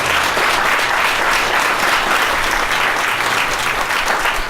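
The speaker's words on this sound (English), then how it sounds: "I want you all to give yourselves a round of applause" A town hall audience in the Antelope Valley gives a loud, dense round of applause, many hands clapping steadily and close for several seconds without a break.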